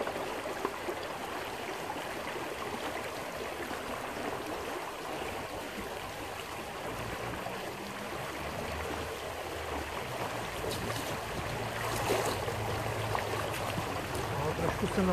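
Bojovský creek in winter, its water rushing in a steady, even broadband wash that stays close and continuous throughout, with no clear talking over it.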